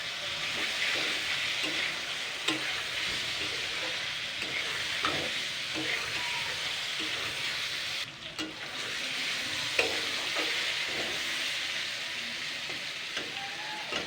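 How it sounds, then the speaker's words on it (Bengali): Powdered spices sizzle and fry in a pan with fennel, cinnamon and mace, stirred steadily with a spoon that scrapes and taps against the metal at irregular intervals over a continuous close hiss. "মৌরির ডালচিনি আর ওই জয়িত্রীটা জাস্ট 2 মিনিট থেকে 3 মিনিট ভেজে নিতে হবে"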